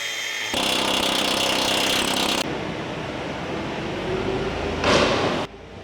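An angle grinder grinds off steel brackets on a Ford F-450 truck: a loud, steady, close harsh whine and rasp runs almost throughout, shifting in pitch and pausing briefly, with no talk.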